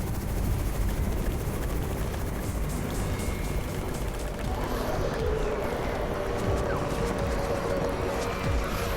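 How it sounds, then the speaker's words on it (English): A helicopter in the zombie-survival video game Undawn, a steady broadband rotor-and-engine drone holding loud and continuous throughout without talk. "It's the Raven's chopper!"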